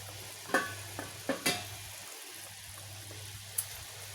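Seasoned fish frying in a pan gives a soft, steady sizzle over a low hum, broken by a few sharp clinks and taps nearby.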